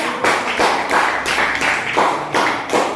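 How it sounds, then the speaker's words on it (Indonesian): Classroom applause for a student group's presentation, dense overlapping hand claps that swell and ebb in steady pulses, loud and close throughout. "Kita berikan aplaus untuk kelompok 3"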